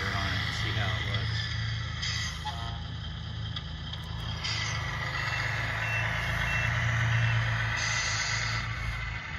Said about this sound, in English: We'll throw that 12-pound excavator on it and see how it looks.